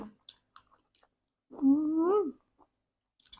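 Someone eats a crunchy Thai glass noodle salad, with a few scattered close crunching and clicking bites and a short hummed vocal sound in the middle.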